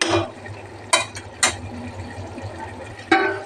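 A metal lid clanks a few times against a pot of cooking dal, sharp separate knocks over a low background of simmering and kitchen hiss.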